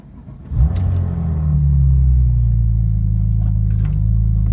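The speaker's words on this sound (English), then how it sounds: "now let me actually start the car" A Porsche 996 Turbo engine cranks and catches with a sudden rumble, then settles into a steady, low idle close by.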